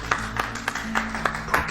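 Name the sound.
round of applause for new employee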